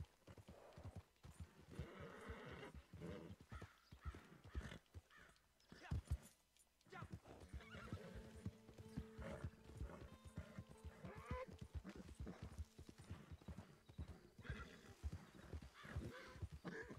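Horse neighing and hoofbeats from the video game Red Dead Redemption 2: steady clip-clop of hooves runs throughout, with whinnies breaking in, over a dense game soundscape, with a brief pause in the middle.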